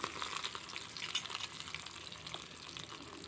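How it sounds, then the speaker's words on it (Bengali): Fish frying in hot oil in a kadai crackles and sizzles with steady bright spitting and small pops, close and fairly quiet, with no talk over it. "মাছগুলো দিয়ে দিলাম ভাজা হওয়ার জন্য।"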